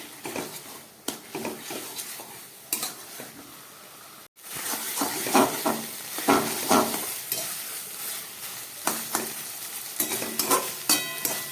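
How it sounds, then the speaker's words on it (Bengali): Taro leaves with coconut are stirred and sautéed in a pan over medium heat. Uneven spatula scrapes and clatter ride over a sizzling hiss, with a brief silent break partway and no talking. "আঁচটাকে আমি মিডিয়ামে করে দিলাম এবার আরও খানিক্ষণ কষিয়ে নিয়ে"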